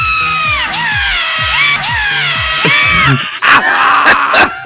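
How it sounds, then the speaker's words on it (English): Two drawn-out high-pitched screams overlap in a loud, theatrical burst, followed by sharp clattering crashes near the end. "Listen to the double scream at the end."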